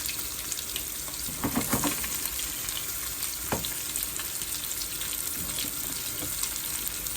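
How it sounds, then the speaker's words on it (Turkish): Steady crackling sizzle of anchovies frying in oil in a small pan, close up, with a few louder pops and no talking. "Şöyle kızartalım bunları."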